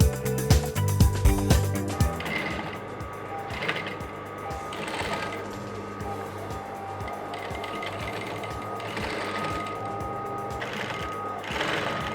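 A sewing machine stitches trouser panels together, opening with loud rapid mechanical clatter that settles into a steadier, softer whirring run with rhythmic pulses throughout, close up and alone.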